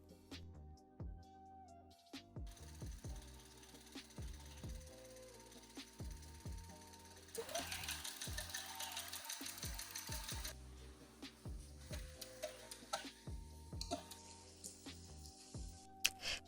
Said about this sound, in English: now we need to sew the elastic part right in the middle using zigzag stitch